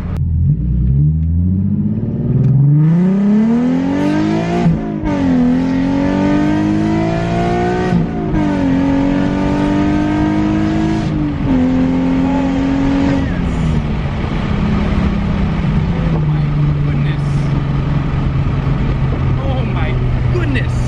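A race car accelerates hard with rolling anti-lag, its engine revving loudly through rising gear pulls with crackling pops and bangs between shifts, then settling into a steady high roar.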